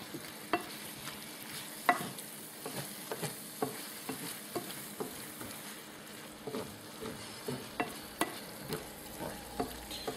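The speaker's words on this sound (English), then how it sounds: "you don't stop moving it around like I'm doing here, because if you keep it steady for too long it may burn" Sauce with peppers being stirred in a frying pan for spaghetti bolognese, a soft steady sizzle under regular scraping stirs of a spoon on the pan, close and fairly quiet, no talk.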